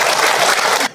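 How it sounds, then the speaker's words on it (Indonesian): A brief burst of dense audience applause at an Islamic Ramadan question-and-answer religious talk, steady and full for about a second before cutting off abruptly. "Tepuk tangan buat Bunda yang bertanya"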